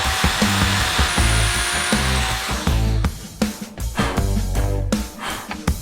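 A drill press whirs steadily for a few seconds, then the motor rises and stutters in bursts as the bit bites into material, close by.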